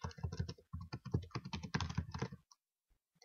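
Rapid typing on a computer keyboard, dense bursts of key clicks in quick irregular runs for about two and a half seconds, close and clear, then stopping into near silence with a couple of faint final taps.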